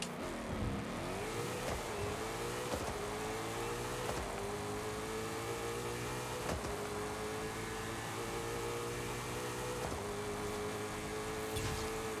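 A 2024 Ford Mustang Dark Horse with a stock engine accelerates hard in a drag run in Forza Horizon 5, a loud continuous engine roar climbing through the revs with repeated gear-shift breaks, alone with no talk.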